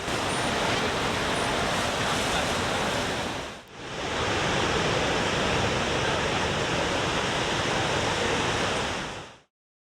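Niagara Falls roars as a dense, constant wash of broadband noise, loud and unbroken apart from one brief dip, with no voices.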